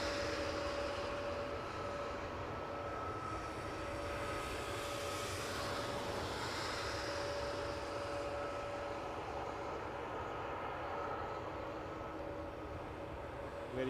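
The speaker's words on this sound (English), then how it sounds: "There goes the Dreamliner." A Boeing 787 Dreamliner jet passing at Toronto Pearson Airport, a sustained broad roar with a faint steady whine, moderately distant and fairly even, with no talk over it.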